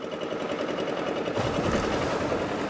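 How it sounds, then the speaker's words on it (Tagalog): A steady mechanical engine drone with a rapid rhythmic chatter, running continuously and fairly loud, like a small motorboat engine nearby, out at sea. "tunog ng makina"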